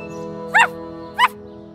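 Cartoon puppy giving two short, bright yips about half a second apart over a sustained musical background, with no talking.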